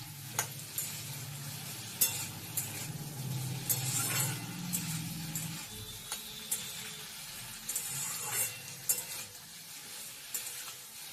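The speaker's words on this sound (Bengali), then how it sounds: "টমেটোটাকে দিয়েও ভালো করে নাড়িয়ে চাড়িয়ে নেব" Soft frying sizzle of tomatoes in a pan with repeated clinks and scrapes of a utensil stirring, the taps irregular and close by.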